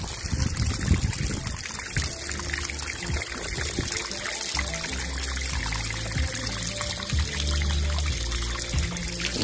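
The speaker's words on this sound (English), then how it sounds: "Nice clean water running from the pipe, you know?" Clean water pours steadily from a pipe in a rural spot in Jamaica, a loud continuous splashing trickle that stays close and unbroken throughout.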